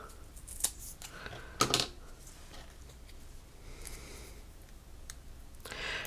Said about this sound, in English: I'll have to cut this in half.